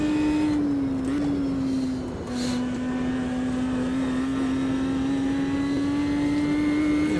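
A race car engine in the sim racing game Automobilista 2 drones at high, strained revs, struggling at the top of the rev range, the pitch holding nearly level with slight dips, loud and continuous with no talking.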